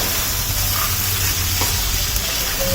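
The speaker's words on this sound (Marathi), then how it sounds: "दोन मिनटं झालेली आहेत आणि भाजी छान आपल्या या सगळ्या भाज्या आपण परतून घेतलेल्या आहेत" Mixed vegetables for Maharashtrian bhogi bhaji sizzle steadily in a pan over a low hum, with a few soft stirring knocks and no talking.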